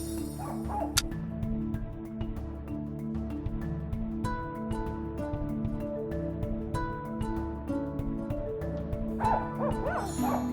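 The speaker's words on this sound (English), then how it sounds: "The barking is coming from behind this door." Small Pomeranian yapping and whimpering, muffled from behind a door, over a steady layered video game music background with occasional chimes.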